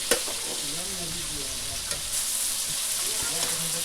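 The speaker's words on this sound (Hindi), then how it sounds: "मछली फ्राई कर रहा है अभी" Fish fries in a pan on a gas stove with a steady hissing sizzle and a few utensil clinks, heard close with faint voices murmuring underneath.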